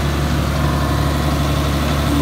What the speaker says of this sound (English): I'm gonna bring up our throttle a little bit.